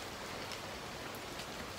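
Rain falls steadily outdoors during a buck hunt, a soft, even hiss that stays constant throughout with no talking.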